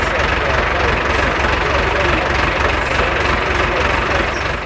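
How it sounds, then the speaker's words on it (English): An unusual International Harvester tractor engine runs steadily at a club drawbar test, a loud, low, even chugging drone with a rapid regular pulse throughout. "one of the members here enjoying a drive on this very unusual tractor"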